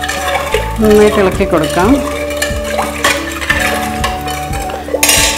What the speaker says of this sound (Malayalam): ഇത് നമുക്ക് ഗ്യാസിലോട്ട് വച്ചിട്ട് നന്നായിട്ട് ഇളക്കി